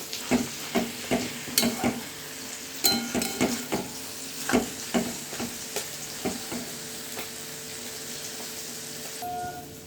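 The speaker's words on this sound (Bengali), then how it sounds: "এখন আমি এটাকে একটু নাড়িয়ে দেব।" Leafy greens sizzle in a pan after sugar is added, while a spatula scrapes and stirs in a run of sharp, close clinks and scrapes that taper off, leaving a soft steady frying hiss.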